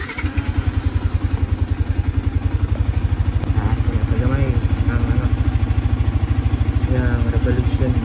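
A Honda TMX Alpha motorcycle engine runs right after an oil change, a loud, close, steady idle with a fast even thumping rhythm and a couple of light revs partway through.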